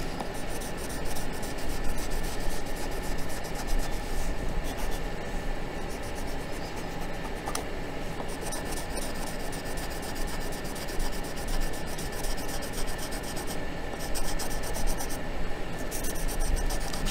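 A colored pencil scratches steadily across paper while a map is colored in, a continuous close rubbing hiss with small strokes for the whole stretch, no voice over it.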